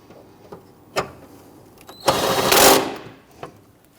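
An impact or power tool zips for under a second, snugging a 10mm bolt onto a bracket while replacing the transmission mount on a 2011-2015 Kia Sorento 2.4L four-cylinder. The burst is loud and close, framed by a few sharp metallic clicks.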